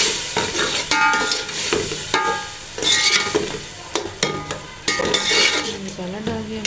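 Masala being stirred and fried in a pot for chicken pulao, a loud sizzle broken by repeated clattering scrapes of a metal spoon against the pan in an uneven rhythm.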